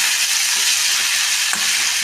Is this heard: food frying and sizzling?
yes